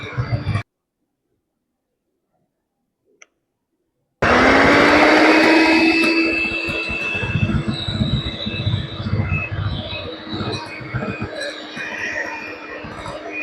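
An electric beater whirs loudly and steadily through butter for a walnut cake baked without an oven, starting abruptly after a brief silence and running continuously to the end.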